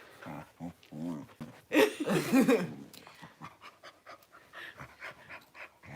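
A dog pants in quick rhythmic bursts while being massaged at home, close and fairly quiet, with people talking and laughing lightly over it.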